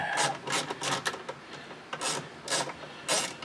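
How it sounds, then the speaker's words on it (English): Screws being backed out of a rear door panel on a 2002 Ford F250, a few short scraping, rasping turns in bursts with pauses between, close and fairly quiet with no talk. "I'm going to take these screws out"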